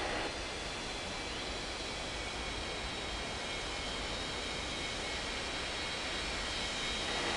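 An aircraft taxis to the gate in the Unmatched Air Traffic Control mobile game, a constant broad jet-engine roar and hiss, loud and unvarying throughout with no voices.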